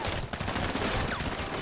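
Rapid gunfire fills a GTA 5 firefight in a dense, continuous barrage of overlapping shots, loud and close, with no talking.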